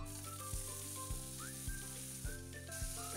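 Garlic and ginger cut into thin strips sizzle in hot oil for a dal curry, a constant bright frying hiss under a loud tonal, music-like background that pulses in steady beats.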